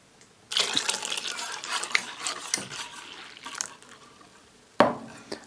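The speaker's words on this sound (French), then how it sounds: "On mélange à nouveau." Liquid cream and milk being whisked together in a bowl for a lemon meringue custard flan, soft splashing and scraping strokes in bursts with a sharp clink near the end, close and fairly quiet.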